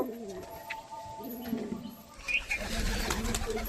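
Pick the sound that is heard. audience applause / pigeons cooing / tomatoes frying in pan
pigeons cooing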